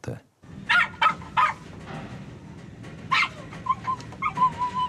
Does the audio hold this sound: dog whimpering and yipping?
yes